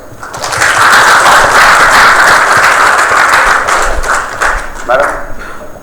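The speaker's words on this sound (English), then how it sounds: "the applause is for you" Loud audience applause at a live stream event swells quickly and holds steady, thinning slightly near the end as a voice begins.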